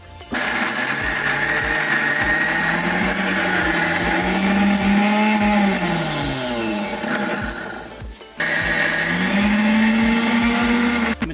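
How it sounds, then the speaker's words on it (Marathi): A mixer grinder blends coconut masala paste for a raw cashew curry, its loud motor whirring and shifting in pitch as the load changes, then stopping briefly before starting up again. "मिक्सरला आपण लावून घ्या चांगलीशी घट्ट असे त्याचं वाटण बनूया"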